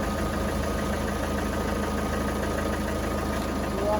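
A 2016 Ford Edge diesel engine idles after an alternator install, a steady, even mechanical rumble with a faint rhythmic knock, close and continuous without pause.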